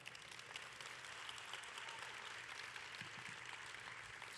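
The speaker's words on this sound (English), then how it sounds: "you can clap for that" Steady applause from a press conference audience introducing a women's basketball coach, a dense wash of clapping that holds evenly throughout.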